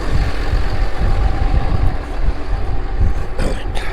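Tractor engine running steadily while ploughing the headland of a field, a loud, continuous low rumble that holds close and even throughout, with no talk over it.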